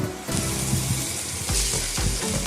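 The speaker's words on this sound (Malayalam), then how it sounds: "ഒരു തക്കാളി അരിഞ്ഞത് ചേർത്ത് കൊടുത്ത് നമുക്ക് നന്നായിട്ട് വഴറ്റിയെടുക്കാം" Ginger garlic paste and chopped green chillies sauté in a pan for a Kerala-style tapioca biryani, giving a loud continuous sizzle close by, with a few rhythmic scraping stirs toward the end.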